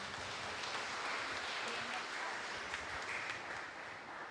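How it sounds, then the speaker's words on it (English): Congregation applauding the priest after Mass, a soft, fairly distant wash of clapping with some background murmur and voices mixed in. "Let us give him a round of applause"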